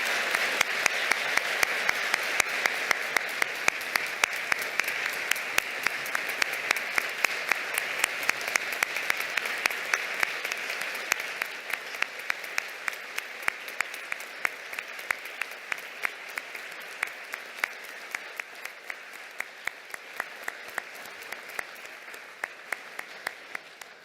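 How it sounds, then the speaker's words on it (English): An audience at the Global Pluralism Award ceremony applauds for a long stretch, the clapping sustained and fairly distant, with a few sharper individual claps standing out and the sound slowly thinning toward the end. "Let's give them a round of applause."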